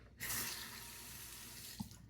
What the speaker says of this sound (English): Just add the water slowly.